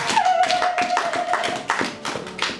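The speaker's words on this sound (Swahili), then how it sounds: "Makofi kwa Bwana Yesu." A church congregation claps during a Swahili sermon, a burst of many hands striking in a dense, uneven patter that carries steadily through the whole stretch, with a faint sustained tone running beneath it.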